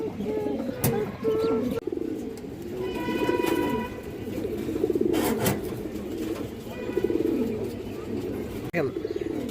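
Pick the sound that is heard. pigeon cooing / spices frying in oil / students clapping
pigeon cooing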